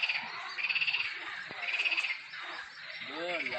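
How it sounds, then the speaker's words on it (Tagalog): Frogs croak at a lake in nature, repeated pulsing calls in bursts, fairly close and clear, with faint insect chirps and no talk. "Yun ay tunog ng palaka."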